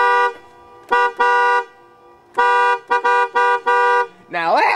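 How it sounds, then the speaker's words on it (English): Car horns honk in a sequence of loud, close blasts, one single toot, then a double, then a rapid run of several short honks, ending in a rising, warbling tone. "Now start honking."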